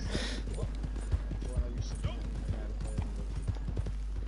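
Horse hooves clip-clopping in Red Dead Online, a steady rhythmic trot drawing closer and moderately loud, with people talking and laughing over it.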